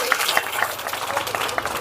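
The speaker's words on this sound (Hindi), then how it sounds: "ताली बजाइए" Audience clapping at a school event, a busy, moderately loud patter of many hands running throughout, with a few sharper individual claps standing out.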